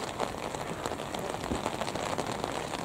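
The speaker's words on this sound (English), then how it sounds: "Rain's coming down, not much wind, but heavy-ish, medium rain." Medium, fairly heavy rain falling steadily at an outdoor athletics track during an 800m race meeting, a dense even patter on surfaces with little wind, close and continuous throughout.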